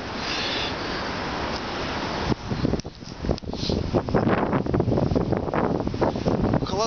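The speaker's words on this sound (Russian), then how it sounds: "Ветер дует." Wind buffets a microphone outdoors near Kaliningrad-Zapadny station at sunset, a broad rushing roar that turns gusty and uneven partway through, with no one speaking.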